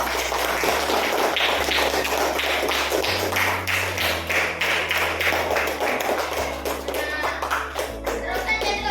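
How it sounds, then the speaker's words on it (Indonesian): Hands clapping at a primary school teacher's presentation, a busy run of overlapping claps and taps heard loudly over a low droning background, with some voices mixed in. "Tepuk tangan untuk kita semua."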